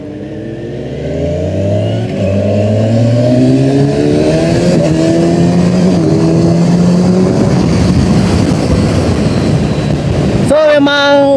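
Kawasaki Ninja 1100 SX SE with quick shift and throttle by wire accelerating hard, its engine rising in pitch through several quick upshifts, loud and close, steady roar building over ten seconds.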